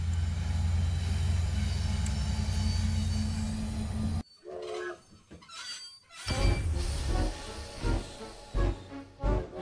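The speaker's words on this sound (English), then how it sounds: "Lionel Train Town 3D. Another famous train thing from my childhood." Train sounds from the video game Lionel Train Town 3D: a steady loud rumble of rolling rail cars gives way to clattering, squealing wheel noise in uneven bursts, with no talking.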